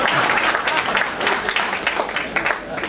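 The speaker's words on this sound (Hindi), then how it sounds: "तो तालियां बजा दीजिएगा" A crowd claps at an Independence Day event, with dense sustained applause filling the room at steady loudness.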